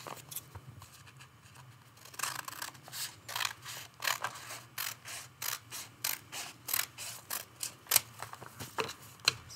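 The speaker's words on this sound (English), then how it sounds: "I'm just going to use my scissors" Repeated crisp snipping of scissors cutting paper, a steady run of short sharp cuts close by after a quiet start, with faint handling sounds between.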